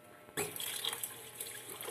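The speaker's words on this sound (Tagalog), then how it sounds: "Tatapin ko yung tubig." Water sloshes and pours out of a pot of rice being rinsed for champurado, starting suddenly and running steadily with close, splashy dripping and no talk.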